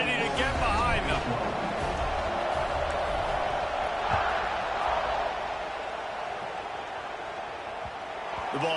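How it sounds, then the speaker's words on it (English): A stadium crowd roars at kickoff in College Football 26, Ohio State at Alabama, a broad, steady swell of cheering that fades slightly, with a commentator talking over it. "this crowd now ready to get behind them"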